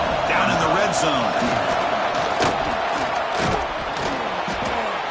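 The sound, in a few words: football stadium crowd cheering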